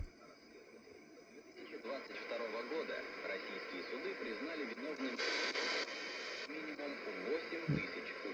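A Revento Solar 300 emergency radio plays a broadcast voice through its small speaker, overlaid with constant static hiss and occasional louder bursts of noise.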